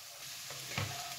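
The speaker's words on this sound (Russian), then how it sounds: "отправляем обжариваться натертую морковь" Grated carrot sizzles in a pan with softened, lightly golden onion, a steady, soft hiss close by with a brief scrape of stirring partway through, no voices.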